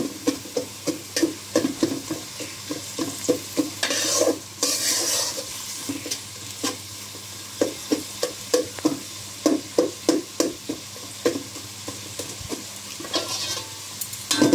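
Spices frying in a pan for a beef tripe curry, a loud, close, rhythmic run of spoon scrapes against the metal over a continuous sizzle, with brief pauses between bursts of stirring.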